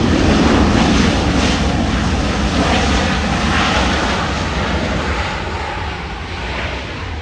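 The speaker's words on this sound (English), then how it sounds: "Thrust reverser deployed." A United airliner touches down softly and its thrust reversers deploy, giving a loud, steady broadband jet roar that holds strongly and then eases slightly toward the end, heard from an airport vantage point with some wind noise.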